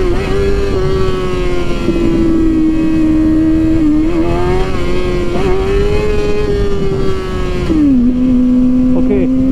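A 138-horsepower car engine held at half throttle, a steady, moderately raised rev droning evenly with slight wavers before the pitch drops near the end.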